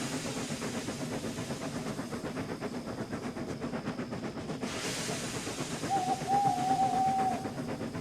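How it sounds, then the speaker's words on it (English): Steady rhythmic chuffing with a hissing wash, growing louder partway through as if drawing nearer, and a brief high whistle-like tone near the end. "When Percy arrived at Farquhar, he heard the puffing one last time, only louder and closer."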